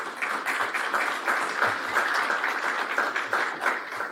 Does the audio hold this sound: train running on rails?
no